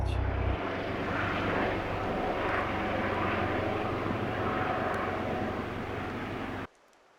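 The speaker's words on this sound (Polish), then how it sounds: "A śmigłowiec." A steady engine drone of a helicopter passing overhead in the Bieszczady mountains, sustained and fairly loud, cutting off abruptly near the end.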